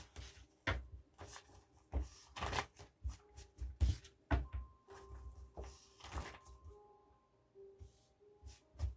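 Tarot cards being shuffled by hand in an irregular run of soft riffles, flicks and taps, close and fairly quiet, with no talking.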